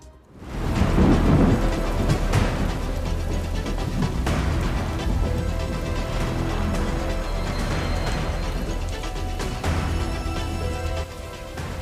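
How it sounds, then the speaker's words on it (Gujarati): Heavy monsoon rain pours down in Banaskantha, Gujarat, with rolling thunder. The dense, continuous roar of the downpour stays loud throughout, and deep rumbles swell beneath it. "બનાસકાંઠામાં ધોધમાર વરસાદ।"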